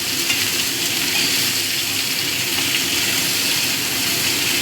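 Potato strips and onions fry in a pan with a steady, dense sizzle that crackles continuously at close range with no talking.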